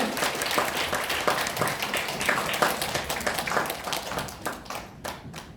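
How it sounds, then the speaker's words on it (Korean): An audience at a skincare and aroma seminar gives a steady round of applause to welcome the next speaker, dense and continuous before thinning out at the end. "뜨거운 박수 부탁드리겠습니다."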